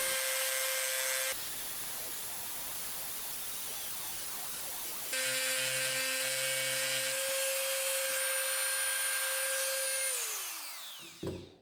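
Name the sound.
Dremel grinding stone shaping deer antler knife handle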